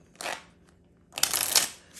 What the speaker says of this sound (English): Just gonna give the deck a few shuffles, mixing up the order.